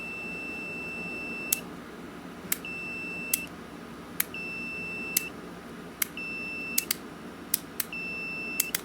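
A continuity tester beeps while checking the switch of a restored 1938 Robbins & Myers 16-inch Double Diamond pedestal fan: short, high-pitched tones separated by clicks, repeating irregularly over a low background hum.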